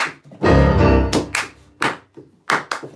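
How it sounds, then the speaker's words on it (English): Several sharp hand claps ring out in an uneven rhythm after a brief low vocal sound, loud and close. "Clap with me, people."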